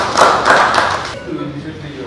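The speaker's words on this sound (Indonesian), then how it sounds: "tepuk tangan dulu dong." A church audience claps in a short loud burst of rapid hand claps that fades after about a second into quieter room noise.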